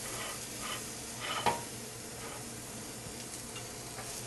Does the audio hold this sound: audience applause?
no